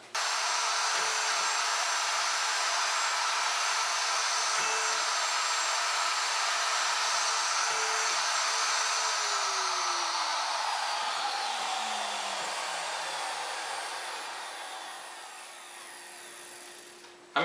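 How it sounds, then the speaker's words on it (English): Power tool boring shelf pin holes into a pine wardrobe divider, a steady high whine with short cutting bursts, its motor winding down at the end. "I'm in the process of cutting the holes in the divider that will accept the metal shelf support pins"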